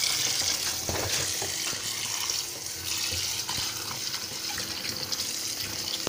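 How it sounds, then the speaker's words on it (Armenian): Cold tap water runs steadily into a sink while aubergine is rinsed under the stream, a continuous close hiss with small splashes and no talking. "Հիմա պաղ հոսող ջրի տակ լվացնում ենք"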